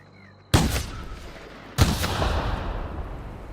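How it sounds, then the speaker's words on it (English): Two sharp, loud sniper rifle shots fired in The Outer Worlds, a little over a second apart, each followed by a long echoing tail that rolls across an open landscape. "Even through this distance I managed to shoot him successfully."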